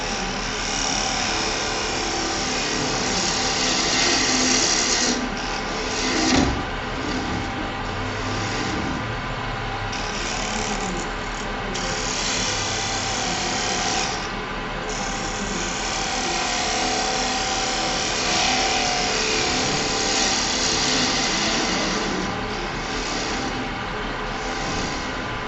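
Wood being cut on a lathe while turning a box, a steady continuous machine whir with a broadband scraping edge that runs throughout, with a brief sharper knock partway through.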